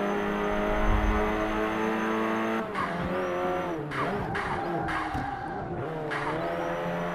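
Race car engine in the Forza 5 racing game, a loud sustained harmonic whine that shifts pitch through gear changes and cornering, with repeated tire squeal and skidding bursts partway through, no talking.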